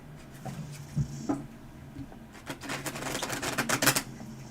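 Tarot cards are shuffled close by, with scattered soft taps building into a quick run of crisp riffling clicks near the end.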